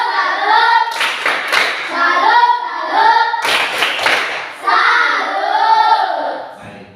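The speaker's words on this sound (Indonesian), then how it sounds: "kita tepuk tangan lagi kepada kelompok berbicara" Classroom students clap in rhythmic bursts for a discussion group, a patterned 'tepuk salut' routine with voices chanting along between the clap clusters; loud and close.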